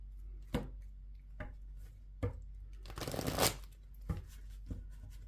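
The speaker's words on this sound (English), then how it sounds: "Okay, I'm hearing you want me to shuffle a bit here. Okay, shuffle." Tarot cards being shuffled by hand: soft taps and snaps at irregular intervals, with one longer riffling burst in the middle, close and fairly quiet with no speech.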